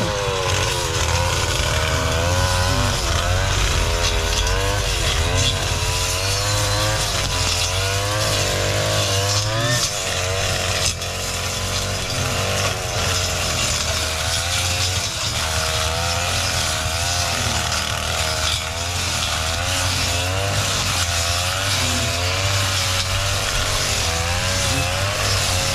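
A handheld grass cutter clears grass along a rural path, its two-stroke engine droning loudly and continuously with wavering pitch, close by, with no talk over it.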